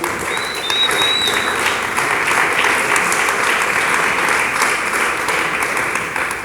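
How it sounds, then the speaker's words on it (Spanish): Church congregation claps steadily together, sustained close clapping for several seconds with a faint voice briefly heard. "Dele palmas al Señor"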